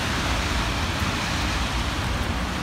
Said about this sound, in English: Snow plus rain.